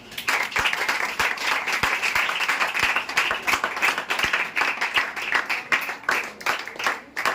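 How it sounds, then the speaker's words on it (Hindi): A room full of people applauds loudly and continuously, dense clapping with a few sharper individual claps standing out. "इसके लिए एक बार और ताली हो जाए भाई"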